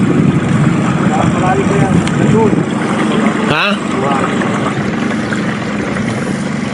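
Small fishing boat engine during an ultralight fishing trip off Moon Island, Saadiyat, Abu Dhabi, a loud continuous droning motor running throughout, with someone briefly speaking over it midway.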